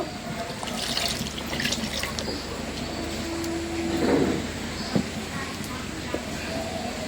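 Water splashes and trickles as a little is added to a pan or bowl while cooking eggs, faint with a few clinks and some background noise.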